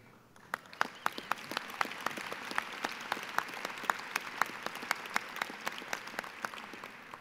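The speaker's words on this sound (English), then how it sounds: "I really appreciate that applause" A gala audience applauds after a speech, with a crowd's steady clapping wash underneath distinct nearby hand claps popping out in a fairly regular rhythm for about seven seconds.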